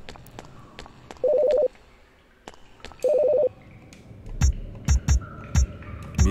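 Telephone in the video game Fear Effect giving two short bursts of a warbling electronic ring, separated by a pause, followed by low thumps and bleeps over a quiet hum.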